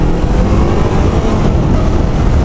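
A big bike motorcycle with no muffler drones loud and close, a steady, unbroken engine roar with no voices over it.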